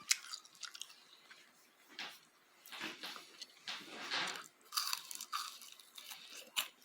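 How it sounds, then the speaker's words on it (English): Someone crunches and chews crispy barbecued pork belly close up, giving a quiet, uneven run of crisp bites and wet chewing with no talk. "Did you hear my husband eating?"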